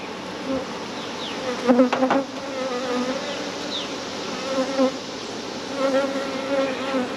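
Honeybees buzz continuously close by in an open hive during an inspection, a dense hum with individual bees droning past now and then; no voices.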